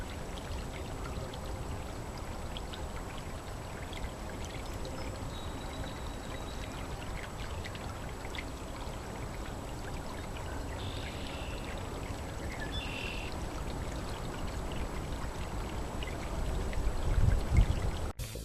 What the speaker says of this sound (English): there's a nice bubbling brook going under one of the bridges